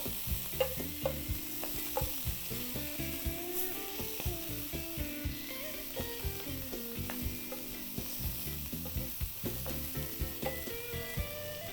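Catfish sizzles on a grill, a close, steady frying hiss punctuated by repeated sharp clinks and scrapes of turning and flipping the fillets, with no speech.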